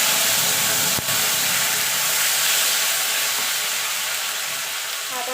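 Bay leaves, whole cumin and tomato paste sizzle in hot leftover frying oil for a vegetarian jackfruit kofta curry, a steady dense hiss close by with one brief click near the start.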